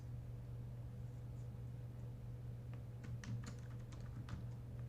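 Faint computer keyboard typing, scattered soft key clicks in a short burst over a steady low hum of background noise.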